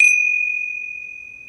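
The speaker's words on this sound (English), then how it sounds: "I'm going to open and close the puja with a gong." A single ringing strike on a small gong opens a puja ritual. It starts with a bright attack, then a clear metallic tone sustains and slowly decays, with no voices.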